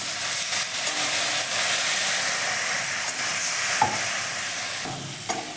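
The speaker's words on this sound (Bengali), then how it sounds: "এবার আমি স্লাইড জল দিয়ে মশলাটাকে সুন্দরভাবে কষে নেব।" Masala of chili powder and turmeric fries with a splash of water, hissing and steaming steadily up close while a spatula stirs and scrapes with a few sharp knocks.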